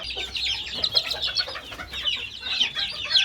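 Several Serama chickens cluck busily and continuously, close by, as chicks eat boiled egg, with overlapping bursts of clucking and no talking.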